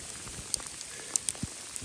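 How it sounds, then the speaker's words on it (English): Hail patters lightly in a forest, scattered sharp ticks and small taps landing irregularly over a soft, steady background hiss. "Little hailstorm happening."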